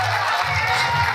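A high school audience in a gym or auditorium applauding and cheering, a loud continuous roar of clapping and shouting crowd noise up close, with voices blended into the din.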